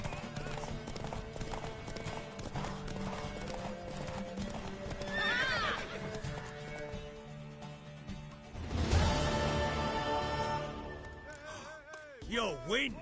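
Hooves clip-clop along with a loud horse whinny in The Witcher 3, mixed with game music and voices talking throughout.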